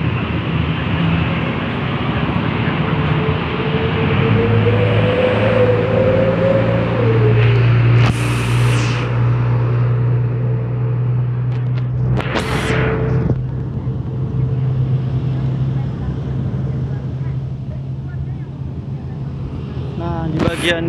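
Busy street traffic with a steady engine rumble and low hum throughout, a couple of brief louder passes of vehicles, and a voice speaking over it.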